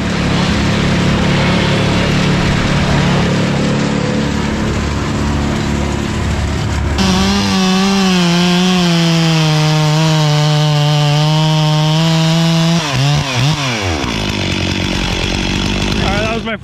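A Stihl 440 chainsaw roars loud and close throughout, first biting into wood, then revving steadily as the pitch shifts while cutting, and finally dropping in speed.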